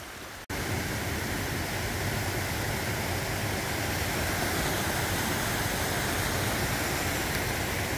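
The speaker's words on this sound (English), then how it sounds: "I'm pretty much walking down a creek." Steady rushing water and splashing noise while wading down a wet, muddy, icy creek, loud and continuous from start to finish after a brief quiet opening, with no talking.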